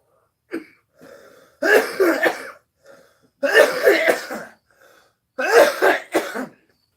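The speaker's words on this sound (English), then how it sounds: "I got a lot of cigarette smoke still in my lungs. So that's why I'm coughing." Three bursts of harsh, raspy coughing from a smoker, spaced a couple of seconds apart, each a quick cluster of hacks, close and loud.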